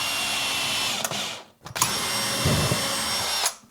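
A power drill drives screws during a storage room build, whirring loud and close in two long bursts separated by a brief pause and a click.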